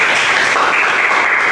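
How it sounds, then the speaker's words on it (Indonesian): A class of students claps together in a classroom, a brief, loud, dense patter of hands lasting just over a second without any voices. "Oke, tepuk tangan."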